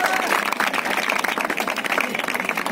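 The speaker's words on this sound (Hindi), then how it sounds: "जोरदार ताली और बालिका के लिए" Loud, dense applause from a crowd at an award ceremony where medals and certificates go to a girl and other winners, steady clapping filling the whole stretch with some talk mixed in.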